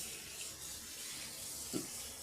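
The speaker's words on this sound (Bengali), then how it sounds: "লাউ শাকগুলোকে খুব ভালোভাবে রানিং ওয়াটারে দুই থেকে তিনবার খুব ভালোভাবে হাত দিয়ে চেপে চেপে ধুয়ে নেব" Bottle gourd greens being washed by hand under a running kitchen tap: a steady soft hiss of flowing water with a brief splash near the end, no voices.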